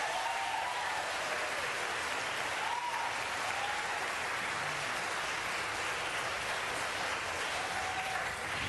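Applause fills a Los Angeles city meeting, a steady, dense wash of clapping that sounds slightly distant and runs unbroken throughout with no clear speech.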